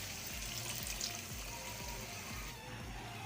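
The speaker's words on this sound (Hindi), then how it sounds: "ये जो जग में जो मसाला लगा हुआ है मैंने इसी में ही थोड़ा पानी ऐड किया है" Water pours into a jug coated with leftover spice paste to rinse it out, a soft, continuous trickling splash heard quietly and close, without speech.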